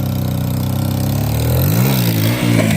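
A motorcycle engine on a mountain ride toward Ghodepani idles with a low throb, then revs upward in rising and falling swells, loud and close, with no talk over it.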